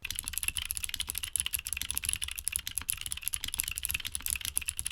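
Rapid, continuous typing on a keyboard with clicky mechanical switches, bright clacky keystrokes close up and a steady rhythm throughout, no voices.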